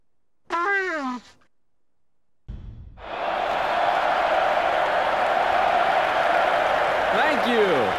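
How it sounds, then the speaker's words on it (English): Crowd applause in the Tekken fighting game swells after a short harsh vocal cry, becoming a steady, dense wash of clapping and cheering that holds loud to the end. "Thank you for your applause."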